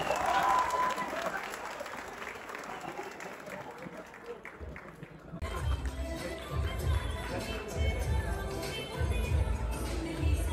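Audience applause and crowd noise at a Punjabi event at UCP University in Lahore, with dense clapping early that thins, then a louder burst of claps, shuffling and chatter near the end.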